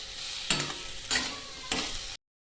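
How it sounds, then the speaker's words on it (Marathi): Potato chutney with coriander is stir-fried in a pan, three distinct scraping strokes of a spatula cutting through a steady sizzle close by, then sudden silence. "आपल्याला परत बटाट्याची चटणी अशी मस्त परतून घ्यायची"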